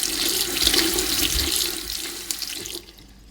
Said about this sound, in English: you can make a cold object if you keep this metal object under the running cold water